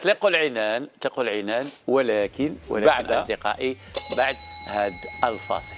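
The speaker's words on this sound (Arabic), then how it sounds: "هذا الجرس" A bell rings out in a TV studio during a lively broadcast, its steady high ring sitting under an excited host's continuous talk in the second half.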